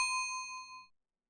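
A single bell toll from the video game Return of the Obra Dinn rings out clear and metallic, then fades over nearly a second into silence.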